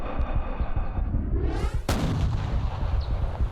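A single sharp rifle shot cracks out during a hunt at the edge of a ridge, a loud sudden blast followed by a rolling boom that echoes and decays over open ground.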